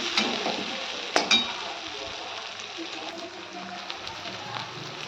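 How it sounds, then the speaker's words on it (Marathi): Spices and ingredients for an egg curry sauté in oil, a continuous bright frying sizzle with a couple of sharp utensil knocks early on and scattered stirring scrapes throughout. "सर्व साहित्य तेलामध्ये चांगलं परतून घेणार आहे छान तेल सुटेपर्यंत याला परतून घ्यायचं"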